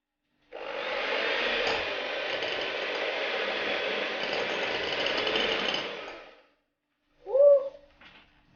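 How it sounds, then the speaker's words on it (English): An electric hand mixer whisks margarine at low speed, a steady mechanical whir lasting several seconds, then stopping, followed by a brief voice exclamation. "I'm just going to start whisking my margarine. So I'm going to start it on like a low speed"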